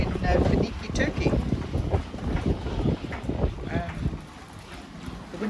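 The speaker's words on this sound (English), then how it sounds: "The wind is absolutely howling." Strong wind buffets boats moored in the harbor at Finike, Turkey, a steady loud rumble of gusts and microphone wind noise with faint rigging and water sounds beneath.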